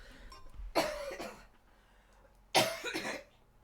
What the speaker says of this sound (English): I need to clear my throat, hang on.